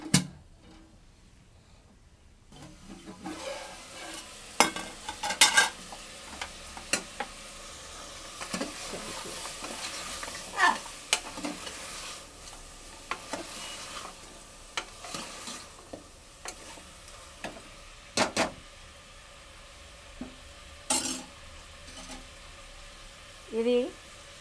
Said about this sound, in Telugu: ఆయిల్లో వేగనివ్వాలి